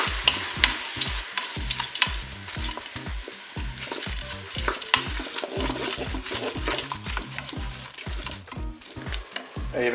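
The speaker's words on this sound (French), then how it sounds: "Je vais ajouter également mes poireaux." Leeks sizzle and fry in a Cookeo multicooker while a utensil stirs them steadily, scraping and clacking against the pot in a quick repeated rhythm over continuous close frying noise, with no voices.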